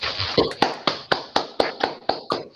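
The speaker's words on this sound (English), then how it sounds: "let's briefly unmute ourselves and applaud for the speaker" A small group clapping for a speaker after a mathematics lecture, in sharp, irregular bursts, about a dozen distinct claps over a couple of seconds, close and fairly loud.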